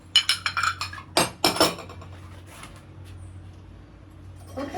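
Glazed ceramic garlic dishes clink against each other while being unloaded from a kiln, a cluster of quick bright chinks followed by two sharper knocks, then a quiet stretch.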